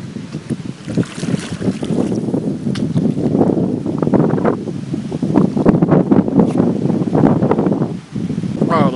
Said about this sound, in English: Oh, the wind's just pushing me away right now.